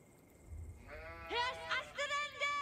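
Sheep in Age of Empires 4 give several short, wavering bleats in quick succession, clear and close over a faint low background rumble.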